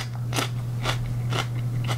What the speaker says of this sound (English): Beautiful crunch.